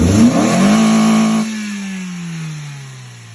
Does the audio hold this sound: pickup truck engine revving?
yes